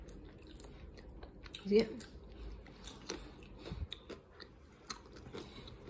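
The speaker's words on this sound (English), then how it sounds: "There's a nice snap and crunch to it." Someone bites into a thin, crispy pizza crust from a pizzeria called ButterNut, giving a sharp snap followed by scattered crunchy chewing sounds, close to the microphone, with brief speech in between.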